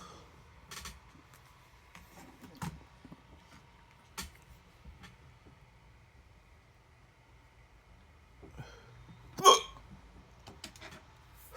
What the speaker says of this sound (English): Got a hiccups.